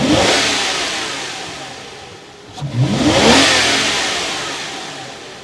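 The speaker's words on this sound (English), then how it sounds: "Let's hear that engine come to life." A Toyota Century's V12 engine, the only V12 Toyota built, turns over and catches after a quiet dip. It then revs up strongly, swelling loud and close before the rumble eases back toward idle.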